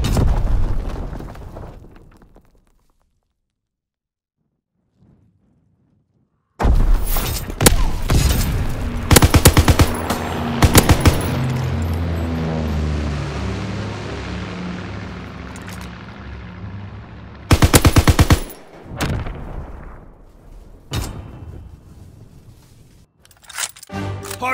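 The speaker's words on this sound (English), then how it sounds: "Enemy strafing run inbound." Aircraft strafing run in a war shooter video game: a long, dense fusillade of rapid gunfire and explosions erupts after a brief silence, loud and continuous, with another sharp burst later before fading.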